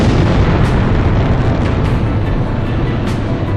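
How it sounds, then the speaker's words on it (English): Missile explosions and heavy combat booms in the PS2 flight game Ace Combat Zero: The Belkan War form a dense, loud, continuous rumble with a few sharper bursts, and no voices. "Missile launched."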